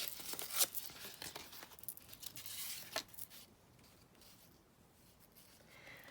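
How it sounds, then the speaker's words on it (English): Paper being torn by hand for a junk journal envelope, making a few quiet, close ripping and crinkling strokes near the start, then fading to soft rustling. "I'm just going to tear this down here."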